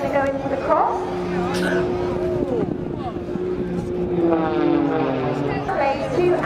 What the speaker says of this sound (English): we can do big manoeuvres in such a small aircraft